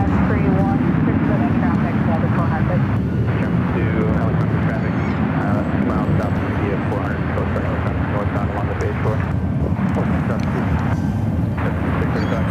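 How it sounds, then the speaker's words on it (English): Delta Boeing 767 heavy airliner arriving at San Francisco airport from JFK, a loud continuous low engine roar filling the whole stretch, with a voice talking over it throughout. "a Delta Heavy coming in from JFK, 767"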